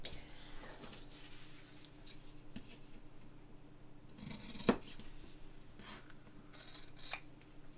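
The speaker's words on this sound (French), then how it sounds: "on va simplement au ciseau, oups, les couper" Scissors snipping through lining fabric to cut two small pieces, faint and quiet with a single sharper snip partway through, softly under low background noise.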